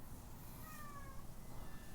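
Faint meow from a house cat, a couple of thin drawn-out calls over a steady low background hum.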